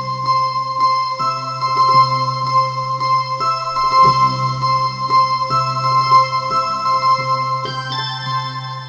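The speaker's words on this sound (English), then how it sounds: "the sound effect that I have on is kind of like a choir kind of sound" A keyboard plays a riff on a choir-like patch, a steady, repeating pattern of sustained vocal-toned chords over a held low note, clear and even with no talking.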